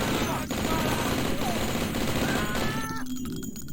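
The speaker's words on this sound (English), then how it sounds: "Tommy gun's being a little bit inaccurate, but it still works." A Tommy gun in the Blood video game hammers out sustained rapid automatic fire, loud and continuous, with a brief break near the end.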